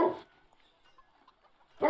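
Two loud dog barks, one at the very start and one at the very end, with a near-silent gap between them.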